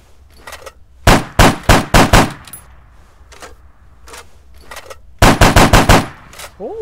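Heavy 12.7mm APDS rounds fire in Arma 3, loud rapid bursts of four or five shots with a lighter burst between, close and punchy.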